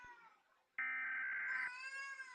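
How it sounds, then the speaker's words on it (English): A cat yowls loudly and close by in long drawn-out cries, one sustained scream followed by a rising, wavering howl, with no talk over it. "my cat is screaming"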